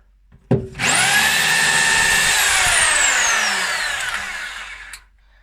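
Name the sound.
power drill with a masonry drill bit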